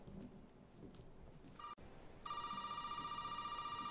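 A telephone rings in the horror video game Resident Evil 7, its steady repeating electronic ring starting partway through and continuing loud and close over a dark ambient drone, with no talking.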